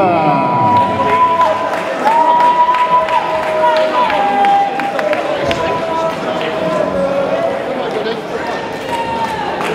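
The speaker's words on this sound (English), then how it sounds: "And a big round of applause, please, to his opponent" A crowd at an MMA fight night claps and cheers for a fighter. The noise is steady and fills the room, with a voice talking over it throughout.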